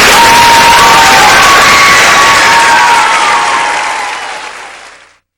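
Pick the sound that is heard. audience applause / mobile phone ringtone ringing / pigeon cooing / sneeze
audience applause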